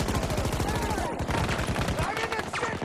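Gunfire in the shooter Battlefield 2042, rapid overlapping shots forming a continuous dense barrage throughout, with other battle noise mixed in.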